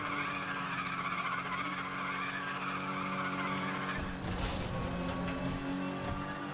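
Car tires skidding and squealing during a drift in the racing game Need for Speed The Run, a loud continuous screech over steady engine drone that flares into a harsher burst near the end.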